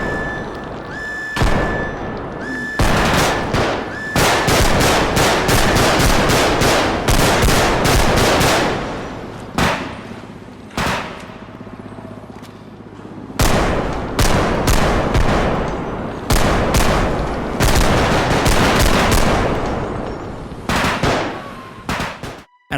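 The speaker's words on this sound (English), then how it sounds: "the crack of a pistol, the boom of a shotgun" Realistic zombie video game gunfire: pistol cracks and heavy shotgun booms fire in rapid, loud bursts with short pauses, dense volleys running almost continuously, no talking.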